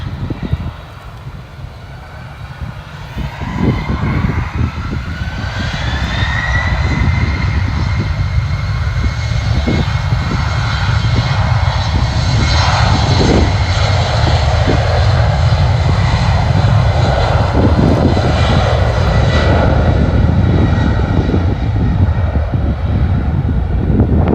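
An airplane takes off at Bristol Airport, its engines swelling from a low rumble into a loud, sustained roar with rising whine that holds steady and strong for over twenty seconds, heard alone without talk.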